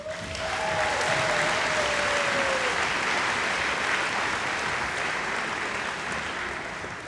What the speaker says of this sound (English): A round of applause for our guests and our award winners